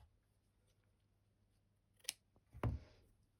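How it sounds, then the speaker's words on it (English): Scissors cutting fabric in a quiet sewing room, one small snip followed by a louder, longer crunching cut, close and isolated against near silence. "I'm going to cut this slightly"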